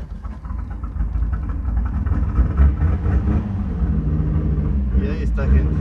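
A turbocharged VR6 engine in a VW Jetta MK3 runs with a steady, loud low rumble close by, settling into an even idle for several seconds, with a brief higher burst near the end.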